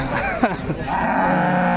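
Cattle at a cattle market give a short low moo amid ambient crowd noise, with voices in the background.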